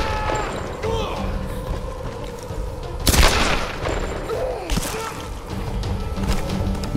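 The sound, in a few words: gunshots from a gun in the video game Tomb Raider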